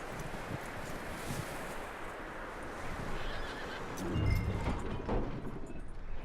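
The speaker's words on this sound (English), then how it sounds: "That looks like a decent horse." A horse in the Red Dead Redemption video game whinnies and clip-clops over steady outdoor wind and rustling, with a louder burst near the end; no one speaks.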